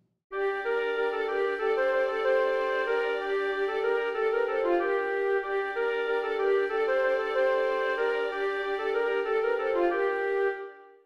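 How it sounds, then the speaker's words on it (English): A sustained orchestral passage from Dvorak's New World Symphony plays steadily and smoothly, with held harmonies and gentle rhythmic movement, moderately quiet and without talk. "here's Dvorak's New World Symphony."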